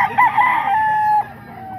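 A rooster at a grotto gives a single loud, close crow, a drawn-out call of just over a second that ends abruptly into quiet.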